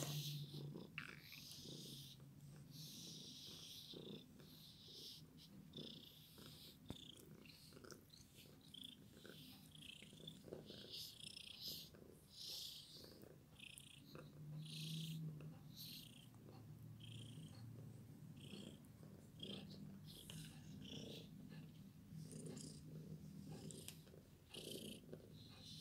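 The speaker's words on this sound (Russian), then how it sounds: "Мурлычет." A cat purrs steadily and softly at close range while being brushed during a morning grooming, a low continuous rumble with small snorts and no talking.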